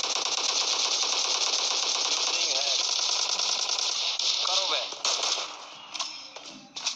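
M16 rifle fire in the PUBG Mobile Lite battle game, a fast sustained burst of shots under an excited voice talking over it, then fading into scattered sounds near the end.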